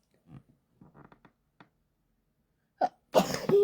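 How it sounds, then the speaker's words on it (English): A person sneezes once near the end, following a few soft breathy sounds and quiet vocal noises in an otherwise silent room. "I gotta sneeze."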